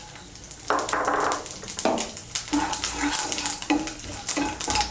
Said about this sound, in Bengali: এর মধ্যে আমি দিয়ে দিচ্ছি একটা তেজপাতা, একটা শুকনো লঙ্কা, আর হাফ ছোটো চামচ গোটা জিরে।